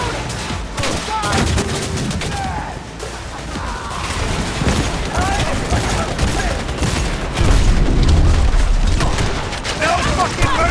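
Dense, continuous gunfire in the Cyberpunk 2077 video game, a loud chaotic mix of shots and impacts with shouting voices over the top throughout.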